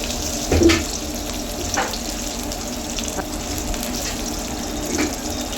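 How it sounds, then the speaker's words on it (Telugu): Onions, green chillies and curry leaves frying in oil in a kadai, a continuous moderate sizzle broken by a few soft clinks and stirring scrapes. "ముందుగా ఒక కడాయి తీసుకొని కొద్దిగా ఆయిల్ వేసి ఆనియన్స్ అండ్ కట్ చేసుకున్న పచ్చిమిర్చి కరివేపాకు వేసి వేయించుకోవాలి"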